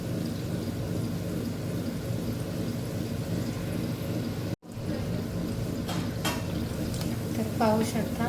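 Gulgule fritters fry in a pan over low heat with a steady gentle sizzle, broken by a brief dropout midway, and a few faint clinks near the end.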